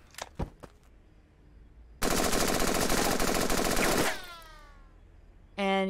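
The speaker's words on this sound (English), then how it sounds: "We're gonna use a rifle." Rifle fire in the Henry Stickmin video game comes as one loud, rapid automatic burst lasting about two seconds, then tails off into echo. Short clicks come before the burst and a brief sound follows it.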